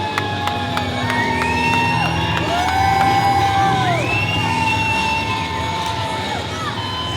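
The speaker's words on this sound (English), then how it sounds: "Listen to the crowd reaction from Tyson Dukes and Dick Durning." A wrestling crowd roars and cheers as two wrestlers make their entrance to the ring, a loud continuous din of shouts and whoops layered over blaring entrance music with rising and falling tones.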